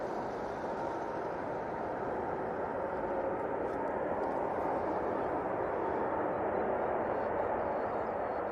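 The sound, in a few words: Emirates airliner landing at Manchester Airport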